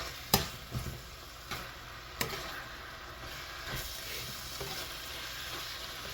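Ground meat fries and is stirred in its own rendered fat for a Filipino tortang giniling, a steady soft sizzle broken by a few sharp utensil scrapes and clicks, close and alone.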